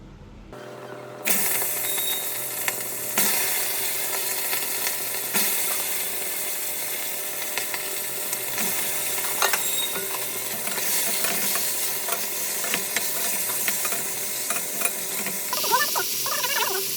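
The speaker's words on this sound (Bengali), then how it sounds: "শুকনো লঙ্কা তেজপাতা আমি খুঁজে পাইনি, তাই এলাচ, লবঙ্গ, দারচিনি আর কালো জিরে ফোড়ন দিয়েছি।" Whole spices, cardamom, cloves, cinnamon and nigella seeds, tempering in hot oil in a home kitchen, giving a steady close sizzle and crackle with occasional scraping stirs, no talk.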